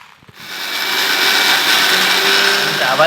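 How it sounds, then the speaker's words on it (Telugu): A kitchen mixer grinder spins up and grinds mustard seeds into powder, a loud, close, steady whirring roar after a brief start. "ఇప్పుడైతే ఇక పడుతుంది, మిక్సీ పట్టి సపరేట్ చేసి పొడి చేస్తుంది."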